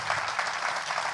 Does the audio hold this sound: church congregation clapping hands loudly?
yes